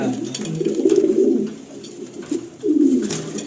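Racing pigeons cooing inside a loft, a steady chorus of low throaty coos that swells and pulses close by, with brief gaps between bursts and no talk.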